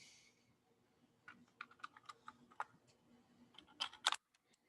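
Screws are driven back into a non-precision plastic case of a homebuilt Stratux ADS-B receiver: quiet, quick clicks and ratcheting ticks in uneven clusters, growing louder toward the end.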